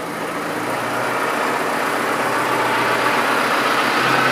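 McCormick tractor engine idling and revving with the PTO engaged to drive a tyre pump, a loud steady broadband roar that builds slightly over several seconds, close to the microphone, no talk.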